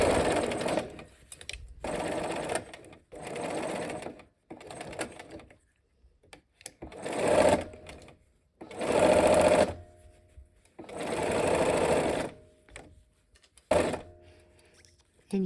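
Sewing machine stitching pieces of fabric together, with a pie-shaped piece on the bottom, in several steady bursts of whirring separated by short pauses, up close with no talk.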